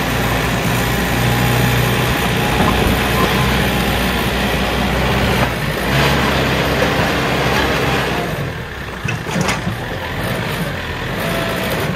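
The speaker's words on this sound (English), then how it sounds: "Kioti RX tractor to the rescue." A heavy diesel Kioti RX tractor engine runs steadily nearby, a low rumbling drone that dips briefly near the end before continuing.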